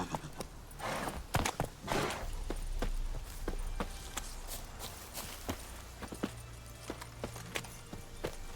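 Horse hooves clip-clopping at a steady walking gait in The Witcher 3, a repeated series of sharp knocks close by over low ambient rumble.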